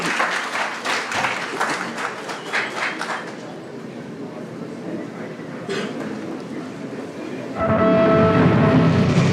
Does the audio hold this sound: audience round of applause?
yes